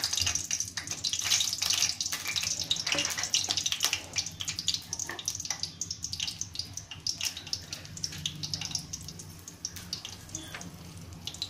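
Dried red chillies sizzle in hot oil in a pan while making mint chutney, giving a steady broadband crackle and hiss that holds throughout with no talking.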